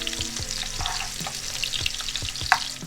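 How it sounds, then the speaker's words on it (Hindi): Onions fry in a pan for a beef nihari tadka, a steady dense sizzle and crackle heard up close, broken by regular scraping stir strokes. "प्याज को हम ब्राउन कर लेते हैं"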